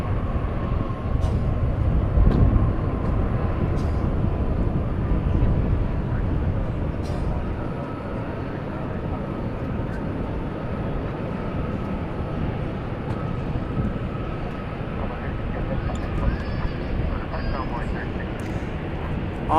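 A Boeing 777-300 airliner rolls out at a busy airport after landing, its engines giving a broad, steady roar that fades slightly over time, with a voice talking over it.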